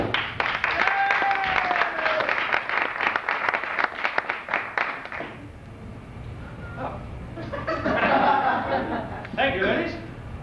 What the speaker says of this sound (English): These guys clap for you, too.